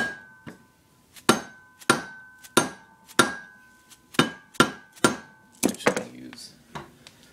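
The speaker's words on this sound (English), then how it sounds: "Metal hammer. As long as you're hitting on the outside, it doesn't really matter." Metal hammer tapping a used main bearing into a 1980 Kawasaki KDX175 engine case: sharp, ringing metallic strikes at an uneven steady pace, about a dozen close blows with brief clattering near the end.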